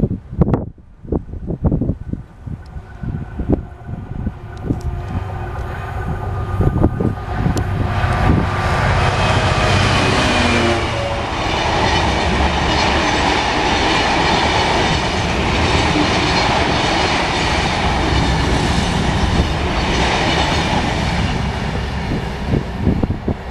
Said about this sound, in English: Here we go with another diverted freight.